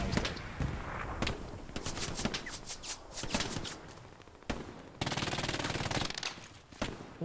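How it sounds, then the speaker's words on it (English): Machine gun fire in the World War II shooter Hell Let Loose, rapid sharp bursts of shots close by, with a long sustained volley near the end amid battle noise. "Machine gun to the head."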